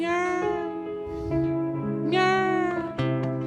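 A voice imitates a cat meowing: a few drawn-out, nasal meows, close and clear, each rising and falling in pitch, with one short meow near the end.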